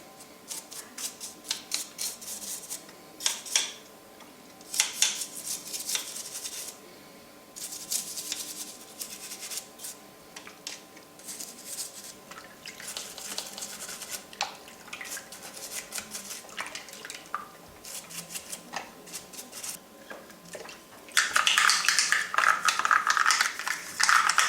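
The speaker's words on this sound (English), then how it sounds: "just washing with a toothbrush and soapy water will do the job quite nicely" A toothbrush scrubs vintage Star Wars TIE Interceptor toy parts in soapy water, with intermittent brushing, rubbing and splashing bursts at close range and a louder, busier scrubbing stretch near the end.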